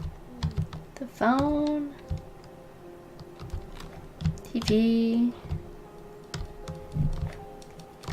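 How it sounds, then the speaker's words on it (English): Light keyboard typing from inside The Novelist, a scattering of small clicks running through most of the stretch. A voice speaks briefly over it, and short tonal game sounds rise and fade twice. "I hear some typing."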